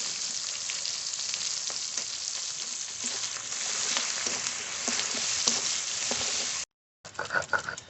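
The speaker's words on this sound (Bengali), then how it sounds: "পেঁয়াজের পাপড়ি দিয়ে রান্না করব একটু ভালো করে ভেজে ভেজে নেব" Sliced onions frying in a pan, a steady close sizzle with crackling pops throughout, briefly cutting out near the end before resuming.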